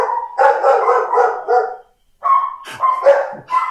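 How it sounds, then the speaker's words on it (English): Several dogs bark loudly and close by at a neighbor arriving, with a burst of rapid barking, a short pause, then more yips and barks. "A neighbor of ours just came in, and our dogs don't like that."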